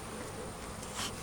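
Bees buzz close around a beekeeper at the hive, a steady faint drone with no talk.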